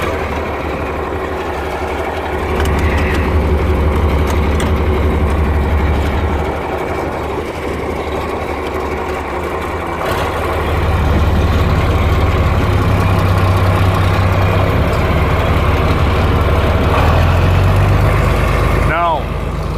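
John Deere 5020 tractor pulling harrows across hard wheat stubble, its diesel engine droning loud and close in the cab with steady low rumble, rising and easing in load, plus rattles and a brief squeak near the end.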